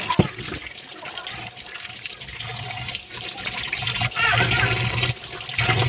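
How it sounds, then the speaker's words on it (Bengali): Kalbaush fish pieces being rinsed in water one by one, with a steady running, splashing wash of water throughout and occasional handling sounds close by. "মাছগুলো ধুয়ে নিব ধুয়ে নিচ্ছি সবগুলো"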